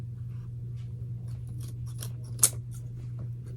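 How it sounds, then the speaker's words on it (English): Regular scissors snip through leather straps in a quiet room, several close, crisp cuts in quick succession with one sharper snap near the middle. "I cut the first one with regular scissors because I picked up the wrong scissors."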